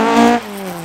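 A mid-1970s Group 4 RS Ford Escort, an unmarked white car, blasts past at speed, its loud engine note rising then dropping in pitch as it passes close by.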